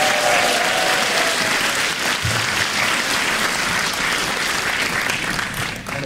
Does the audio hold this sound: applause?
yes